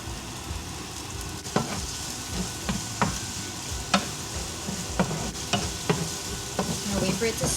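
Tomatoes and onions sizzle in vegetable oil in a hot pan for Mexican-style beef nachos. A steady frying hiss runs throughout, with repeated scraping clicks from stirring and no talking.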